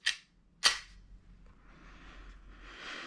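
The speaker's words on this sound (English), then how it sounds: "So now we're at the firing test of the Glock 19X." A Glock 19X blowback BB pistol fires two sharp, loud snaps about half a second apart, and a faint mechanical rustle follows.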